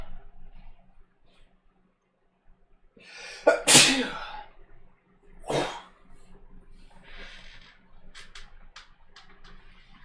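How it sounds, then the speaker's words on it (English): A person sneezes during a live technical session, one sharp burst followed by a second smaller sneeze, fairly close and loud against a quiet room, with faint movement and small sounds afterward. "I've got to sneeze, oh no."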